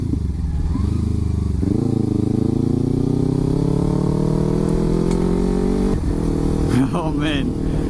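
Kawasaki Ninja 300 fitted with an MGP aftermarket exhaust revs and climbs in pitch, loud and close from inside the rider's helmet, with clattering rumble and wind buffeting near the end.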